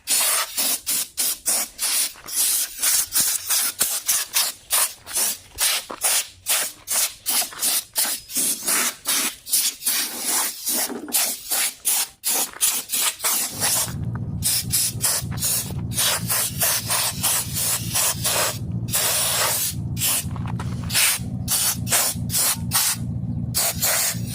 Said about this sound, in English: Alright, we got the air compressor. We're going to blow off everything.